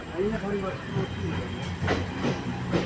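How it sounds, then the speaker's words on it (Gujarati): A train passes alongside at an open-air station in Canada with a steady rumble and faint rhythmic clatter while a voice speaks over it. "હા બાજુમાં ટ્રેન આવી"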